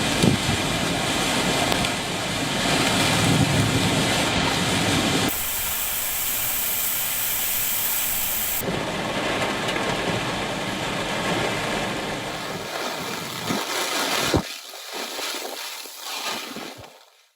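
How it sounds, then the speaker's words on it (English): Heavy rain and strong wind from Super Typhoon Nanmadol lash southwest Japan, a loud, steady broadband roar broken by abrupt cuts between shots, thinning out and fading over the final few seconds. "Southwest Japan has been pounded by heavy rains and strong winds"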